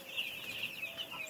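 Six-day-old chicks on farm bedding cheep continuously in a shrill, overlapping chorus, close and fairly loud with no voices.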